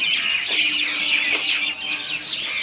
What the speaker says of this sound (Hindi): अही देखियो चिड़िया सब तक चुचुआई छे